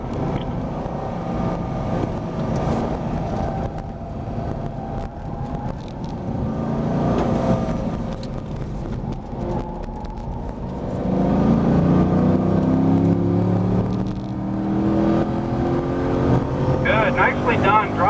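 A Camaro or Corvette engine droning on a race track at Spring Mountain Motorsport Ranch, pitch rising and falling as the car brakes into corners, with an instructor talking over it throughout.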